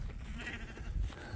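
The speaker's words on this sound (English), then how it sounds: "You're still making lamb noises" A young sheep, grown past lamb size, bleats in a field over a low, steady rumble of background noise, the call brief and fairly close.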